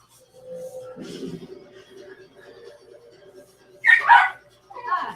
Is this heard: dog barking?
yes